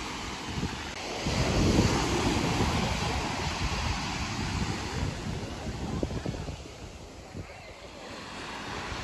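Ocean surf washes onto the shore at Magens Bay beach in St. Thomas, a steady broad roar of breaking waves mixed with gusty wind noise buffeting the microphone.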